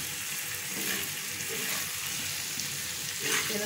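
Fresh curry leaves fry and get stirred in a pan for a Kerala egg roast, a low, even sizzle with a few soft stirring scrapes, fairly faint and with no speech.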